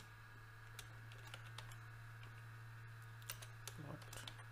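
Keys clatter on a computer keyboard while typing label names in ArcMap software, a quiet run of scattered clicks and short bursts over steady hum, with a faint voice now and then.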